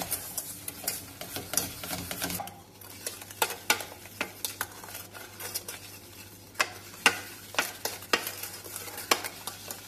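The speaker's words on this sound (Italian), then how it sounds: "poi 80 grammi di zucchero e mescolo per bene" Egg yolks and 80 grams of sugar being stirred for a strawberry tart, a steady scraping swirl with repeated sharp clinks of a utensil against the bowl, close and alone with no talking.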